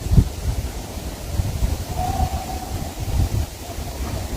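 Strong wind gusting during a wildfire, a rough low rumble of buffeting against the microphone with uneven surges, fairly loud and close, no clear speech.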